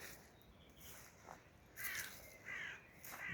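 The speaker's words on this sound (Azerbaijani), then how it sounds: "Bizim bağdan da quşların həzin nəğməsi" Several harsh crow caws sound out at a moderate distance, spaced irregularly over steady outdoor background noise.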